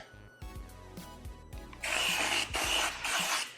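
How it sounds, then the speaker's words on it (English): A steam cleaner steams the brake calipers of a Corvette in a wheel well, with a few sharp clicks and brief bursts before a continuous loud hiss of steam takes over for the last couple of seconds. "if you've never used the steamer on calipers before"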